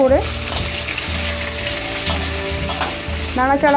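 Chopped vegetables and tomato for dalia khichuri stirred in a hot pan, a loud close sizzle with repeated scraping strokes of a spoon, a short squeaky scrape at the very end, no talk.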